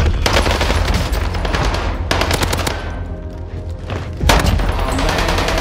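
Call of Duty Warzone gunfire rattles close and loud at a downed player's body on Rebirth Island, in rapid automatic bursts broken by a brief lull before a heavy shot and more firing.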